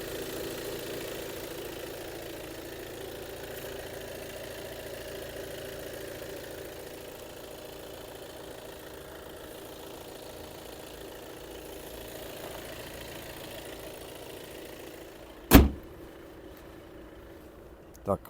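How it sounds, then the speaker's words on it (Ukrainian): A 2019 Volkswagen Tiguan Highline's engine idles as a quiet, steady hum for most of the stretch, with a sharp knock or thump near the end and another faint one just after. "Двигун працює гарно, демпфера не чути"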